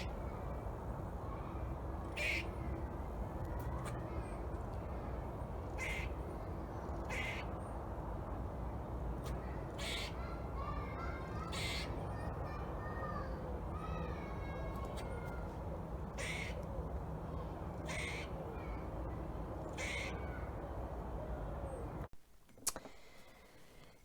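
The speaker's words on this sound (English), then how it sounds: "I never knew squirrels made a noise like that" Squirrel calling outdoors, a series of short, sharp, repeated chirping cries spaced every couple of seconds, moderately far off, over steady background rumble and hiss.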